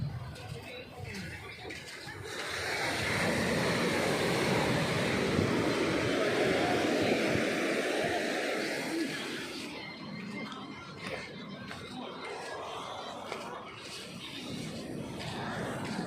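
Steady roar of sea surf washing in at Marina Beach, Chennai, swelling louder for several seconds then easing, with wind buffeting the microphone and distant crowd murmur.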